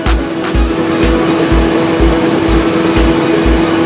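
A bandhel wire making machine running fast in fourth gear, giving a loud, steady mechanical drone with a strong hum and a regular low thump about twice a second.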